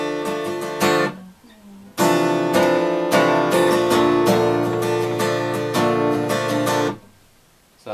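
Acoustic guitar strummed in a rhythmic pattern of bright chords, with a brief pause after the opening strums before the strumming resumes.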